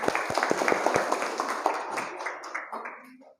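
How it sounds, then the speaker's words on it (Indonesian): Students in a classroom lesson give a round of applause, dense hand clapping that is fairly loud and close at first, then thins out and fades over about three seconds. "beri tepuk tangan lagi untuk kalian semua"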